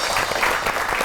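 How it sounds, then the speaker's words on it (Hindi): Studio audience applause on a Pakistani entertainment talk show, a brief dense burst of clapping that fills the short moment without a voice over it. "आपकी बहुत सी तालियों में"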